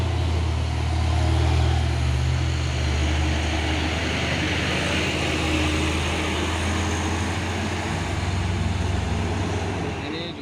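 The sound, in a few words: truck engine revving, Hino 500 or Isuzu Giga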